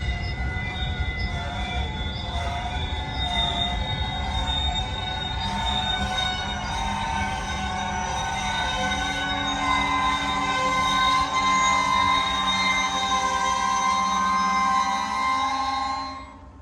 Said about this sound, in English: The screams of hundreds of boxcar brakes answered my question